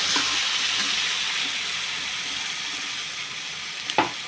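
Tomato juice hits a hot pan and sets off a steady, close broadband sizzle that holds evenly for several seconds, then a brief clatter near the end.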